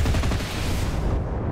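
Aircraft machine gun firing in the World War II shooter game Enlisted, a dense, continuous roar of rapid automatic fire that stays loud throughout the short burst with no talk over it.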